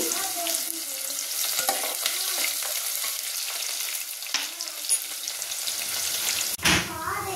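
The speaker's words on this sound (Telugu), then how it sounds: "ఇప్పుడు ఉల్లిపాయ ముక్కలు వేద్దాము. చిన్నులపాయలను కూడా కొంచెం కట్ చేసుకొని యాడ్ చేద్దాము." Chopped onions and shallots hit hot oil with tempering seeds for a mango-tomato dal, giving a strong, continuous sizzle with stirring scrapes close up and a brief clunk near the end.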